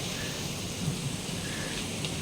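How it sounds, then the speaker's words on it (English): Steady rain falls outside a window, heard from indoors as a dense, even hiss with no talking. "It's actually raining outside right now."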